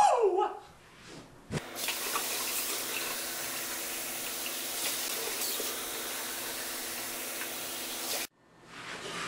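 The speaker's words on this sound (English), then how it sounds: "you're going to fill it with really hot water" Very hot water pours steadily into a glass in a continuous rushing stream lasting about seven seconds, loud and close, with brief quiet before and after.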